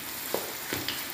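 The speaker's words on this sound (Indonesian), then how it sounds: "tempoyak ini dan goreng." Tempoyak, fermented durian paste, frying in a pan with fried aromatics while cooking patin fish, a low steady sizzle with a few brief stirring scrapes, close and alone without speech.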